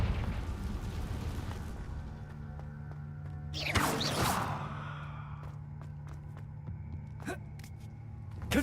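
A Confringo fire spell explosion in the video game Hogwarts Legacy bursts as a loud whooshing blast midway, trailing into a rumbling decay over a steady low game ambience, followed by a few sharp ticks.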